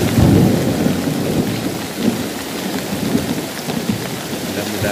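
Heavy rain pours steadily during a 2020 flood in Cibingbin, Kuningan, with deep rumbles of thunder rolling through a loud, dense downpour for the whole stretch.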